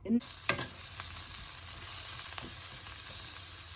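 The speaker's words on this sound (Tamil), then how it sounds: "கொஞ்சமாக நல்லெண்ணெயும் விட்டு இதை வதக்குவோம்" Onions sautéing in sesame oil for a Batticaloa-style fish curry, a steady close sizzle with occasional scrapes and clinks of stirring, no voices.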